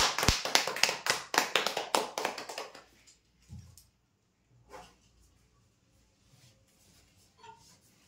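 A burst of loud, dense applause greets a winner at a weekly customer prize draw, then fades out after about three seconds into a quiet room with a few faint thumps.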